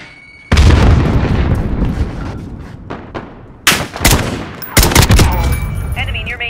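Video game combat with a loud grenade blast followed by bursts of gunfire and further booms, close and dense throughout, with a brief radio-style voice near the end.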